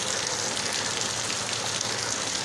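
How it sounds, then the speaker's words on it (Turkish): Heavy rain pours down in Muğla after a burst of hail, a steady, even hiss of drops on surfaces that carries on without a break and with no voices. "Yine şakır şakır yağan bir yağmur eşliğinde videomuza başladık."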